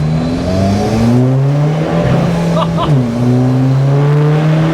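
SEAT Ibiza FR TDi diesel track car, tuned to 250 bhp, accelerating hard in second gear, its engine note rising steadily loud and close from inside, with a brief dip and recovery midway.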